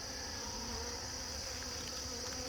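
Honey bees buzz in a nuc hive during an inspection, a dense, steady droning hum close by that fills the moment without any talk.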